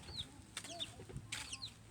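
Chickens cluck softly in a coop on a pig farm, in short, scattered calls, fairly faint, with a low background hum and no talking.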